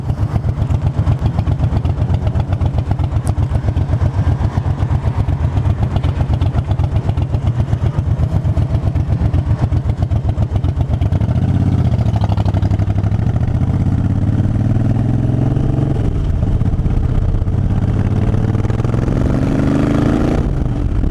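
A 2009 Harley Davidson Fat Bob motorcycle rumbles at idle with a loud, steady, close-up low throb for most of the stretch, then the engine note rises and swells as it begins to pull away.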